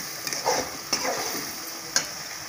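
Masala for an egg fry is stirred in a pan on the stove, with a steady close sizzle and soft scraping, plus a few sharp clinks as the spoon hits the pan.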